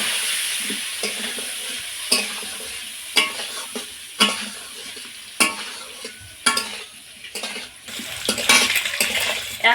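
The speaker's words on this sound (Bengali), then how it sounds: "তারপরে ডিমগুলো কয়েক মিনিট ভেজে তুলে নেব।" Boiled, peeled eggs frying in hot oil in a pan, a steady sizzle broken by repeated sharp scrapes and clinks of a spatula stirring against the metal.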